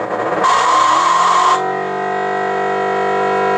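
Engine of an Atari Sprint 2 arcade racing game in first gear: a loud, buzzy electronic tone, harsh and noisy at first, then settling into a steady, evenly pitched hum.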